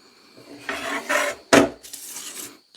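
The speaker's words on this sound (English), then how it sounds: "Just cleaning some of that loose rust off before we oil it." Loose rust being scrubbed off a Plumb Victory axe head, heard as several short, close scraping and rasping strokes of uneven length, with a sharper scrape near the middle and brief pauses between.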